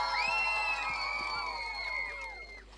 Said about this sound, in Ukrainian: Тому ваші оплески для Соломії